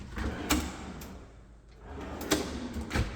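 A soft-close drawer slides shut in a house pantry, giving a few muffled thumps and sliding sounds spread over several seconds, with no talking.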